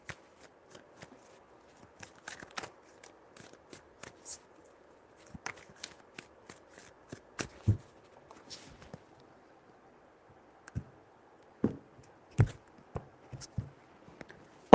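Tarot cards shuffled by hand in a quiet room, a series of soft, sharp riffling snaps and taps in irregular bursts, with faint background hum.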